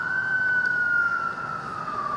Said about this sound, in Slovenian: Sirena naznani prihod slovenskega varovanega kombija.